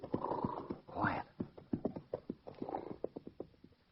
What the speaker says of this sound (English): I hear a horse, if that's what you mean. Riding fast.